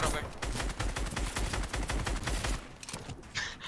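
Gunfire in a video game arena match, a steady stream of fast, loud shots with a fusillade of close bursts that thins out toward the end.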